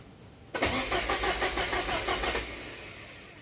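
A 1983 Porsche 944 engine with a fault cranks over in a parking lot: a sudden start of rhythmic, evenly pulsing starter churning lasting about two seconds, then it cuts off without catching, leaving a fading hum.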